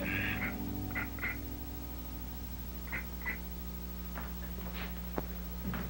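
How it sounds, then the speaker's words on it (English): A duck quacks in short bursts, a couple of quick pairs near the start and again a few seconds later, over a steady low hum with faint background noise. "Look at the duck, Mommy."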